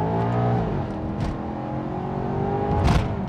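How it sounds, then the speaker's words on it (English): A Maserati GranTurismo pulling hard in first gear from 20 to 60 mph, heard from inside as a loud, continuous engine note rising in pitch, with a brief burst of noise near the end. "Let's go into first gear, and let's go to 60 miles an hour from 20."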